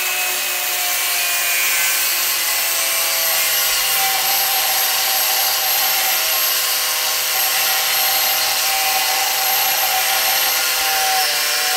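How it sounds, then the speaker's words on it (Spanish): The tip of a drill bit is cut off with a power tool, producing a steady, loud, abrasive whine that holds without a break for the whole stretch. "Ahora voy a proceder a cortarle la punta"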